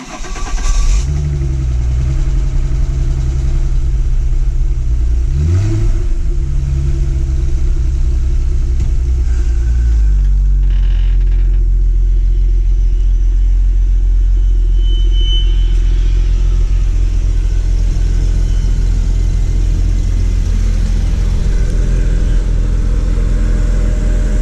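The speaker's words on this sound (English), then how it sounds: "We're going to get a cold start on a 2008 Mercedes-Benz C300." A 2008 Mercedes-Benz C300 starts from cold, cranking briefly and then catching into a loud, steady idle with a couple of early rev changes before settling into a constant low rumble, close by and without talk.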